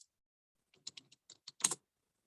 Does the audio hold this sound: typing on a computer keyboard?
yes